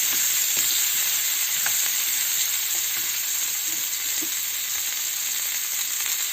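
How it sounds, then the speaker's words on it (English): Mild capsicum frying in a pan gives a dense, constant sizzle with faint stirring scrapes beneath it, close and loud throughout, with no voices. "Stirring everything. And now she'll just let it fry."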